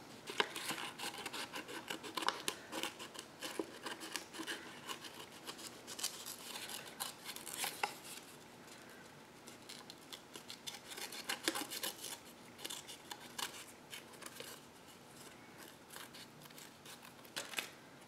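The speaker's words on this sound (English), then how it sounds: "And I need a pair of scissors." Scissors snip and crunch through paper repeatedly at close range, in uneven bursts of sharp cutting sounds.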